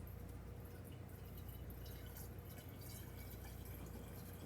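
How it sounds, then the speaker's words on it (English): Crystal Geyser bottled water poured into a container for a chemistry indicator demonstration, a steady, even trickle of liquid running continuously at moderate level. "but I just added some water."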